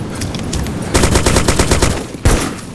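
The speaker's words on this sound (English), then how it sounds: "I put 9 bullets into him and one hit his head." Rapid gunshots in the Arma 2 DayZ Mod video game, a string of sharp cracks in quick succession with a louder burst near the end, loud and close over a steady background.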